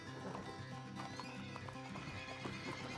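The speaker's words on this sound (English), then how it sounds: "Hitch up the goddamn horses." Horses in a Western frontier video game clip-clop and whinny, with steady hoofbeats and repeated neighs at moderate volume, all fairly faint and continuous.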